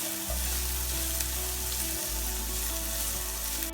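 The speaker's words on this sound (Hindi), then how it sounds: "मेरा प्याज इस तरह से सौते कर लिया" Onions sautéing in a pan for homemade pizza sauce give a steady, close sizzle that runs the whole way through, with a low hum underneath that cuts out briefly near the middle.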